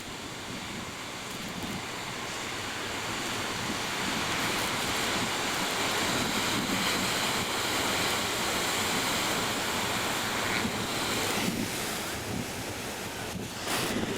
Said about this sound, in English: I'm going to attempt to show you some surf. Huge surf.